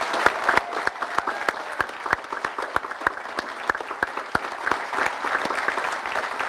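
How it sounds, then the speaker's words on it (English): An audience at a university graduation ceremony applauds for a graduate receiving a Diploma of Arts, a sustained patter of many hands clapping in a large hall, moderately loud and steady. "please join me again in applauding his commitment to lifelong learning in achieving the Diploma of Arts"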